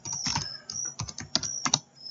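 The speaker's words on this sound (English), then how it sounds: "we can just type things in here" Rapid typing on a computer keyboard, a quick irregular run of close, crisp key clicks with short pauses between bursts, heard alone.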